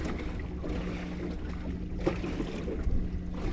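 A boat rocks on waves at sea in steady wind, with a constant washing roar, low engine hum and faint creaks and knocks from the hull.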